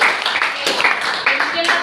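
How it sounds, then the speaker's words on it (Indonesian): Classroom applause for a student after an answer in a biology lesson, a short burst of clapping from the class mixed with murmuring voices, close and fairly loud. "Berikan tepuk tangan untuk si Ayu."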